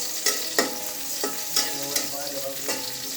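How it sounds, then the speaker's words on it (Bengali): Fish frying in a frying pan, a steady sizzle broken by about seven sharp scraping strokes of a spatula at irregular intervals, close with no talk. "ফ্রাই প্যানে এক সাইডে মাছগুলো ভাজা করছি"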